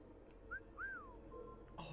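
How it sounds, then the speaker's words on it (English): A faint whistle from an assassin in Assassin's Creed Syndicate, used to lure an enemy: two short rising notes, then a longer gliding tone over a quiet, murmuring background. "Can I whistle somebody from a bench?"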